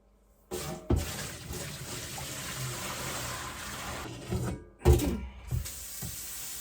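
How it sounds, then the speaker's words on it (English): Tap water runs and splashes steadily into a sink while mushroom-dyed yarn spun from dog hair is rinsed, starting abruptly, with brief interruptions and sloshing bursts as the yarn is handled, close and moderately loud. "And now we rinse."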